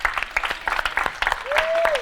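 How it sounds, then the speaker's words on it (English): Audience applause at a success panel event rises as a short burst of scattered clapping, with voices and a brief whistle-like tone over it. "Let's give him another round of applause."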